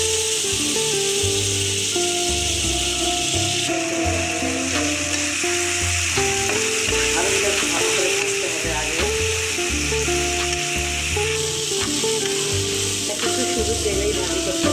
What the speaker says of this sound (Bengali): তেলেই ভাজি করতে হবে, নেড়ে নেড়ে ভাজতে হবে যাতে পুড়ে না হয়